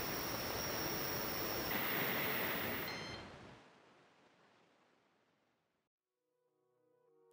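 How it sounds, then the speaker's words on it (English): The motors of an armed delivery drone with propellers, built on a Pixhawk controller, spin at minimum throttle in a loud, steady whirring whine that winds down and fades into silence, followed by a brief click at the end. "I arm the vehicle, which is when the motors start spinning at the minimum throttle position"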